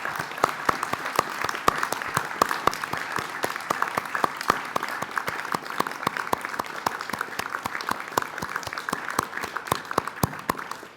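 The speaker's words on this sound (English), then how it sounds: "I wonder if the audience would join me in applauding the wonderful achievement of these graduates" Steady audience applause at a university graduation ceremony for the graduates, dense clapping with sharp individual claps standing out, sustained at an even level throughout.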